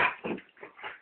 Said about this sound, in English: No barking on mommy.